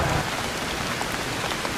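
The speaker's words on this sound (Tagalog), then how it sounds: "Ay, umuulan na." A sudden heavy downpour of rain hits during a motorcycle taxi trip, a dense, steady roar of drops pattering on surfaces with no voices.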